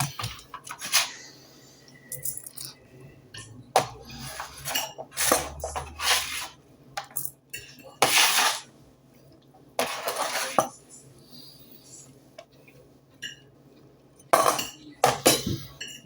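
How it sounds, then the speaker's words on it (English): A fork mixes finely chopped ingredients in a bowl, with bursts of metallic clinks and scrapes separated by short pauses, close and clear. "Mix everything together."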